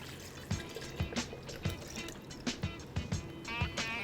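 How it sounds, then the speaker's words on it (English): Non-dairy milk pours into a blender with soft liquid glugs and splashes, a rhythmic series of gentle pulses about every half second, faint and close. "And then we're gonna add some non-dairy milk."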